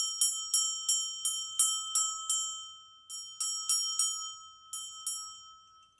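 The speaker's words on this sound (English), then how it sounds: "I'm just going to clear the energy with the bell again." A small bright hand bell is rung to clear energy before a tarot reading, struck in quick repeated strokes with ringing, decaying tones in two bursts separated by a short pause, clear and close with no talk.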